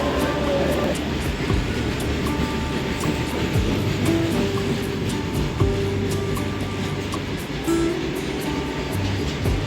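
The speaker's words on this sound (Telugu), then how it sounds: "ట్రైన్ కూడా స్పీడ్గా వెళ్ళిపోతుందండి ఈ గూడ్స్ ట్రైన్ చూస్తున్నారు కదా" A coal-carrying goods train rumbles past close by at a station platform, a continuous heavy roar of wheels on rails with rhythmic clacks and squeals, loud and steady throughout.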